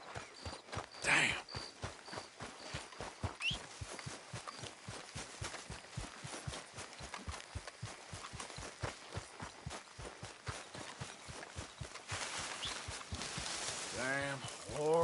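Horse hooves in Red Dead Redemption 2 clip-clop in a fast, steady rhythm, close and continuous for the whole stretch, with a brief voice near the end.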